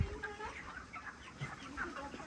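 Chickens at a poultry farm, with several faint clucks and short calls scattered over a low background hum, heard from a little distance.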